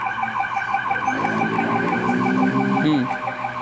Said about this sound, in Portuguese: Nessa outra imagem, o barulho da sirene permanece